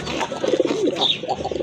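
A newly bought pigeon in a pen coos close and clear, a short run of throaty rolling coos with no one talking over it.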